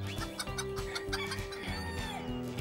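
Several chickens cluck and squawk in quick, overlapping bursts, close and fairly loud, with no talking.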